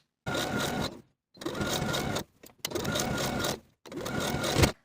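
A sewing machine runs a zigzag stitch, length and width 3, along the sleeve hems of a V-neck T-shirt, in four steady close bursts of whirring with short pauses between them.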